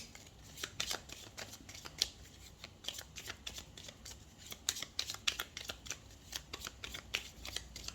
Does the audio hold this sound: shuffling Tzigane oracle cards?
yes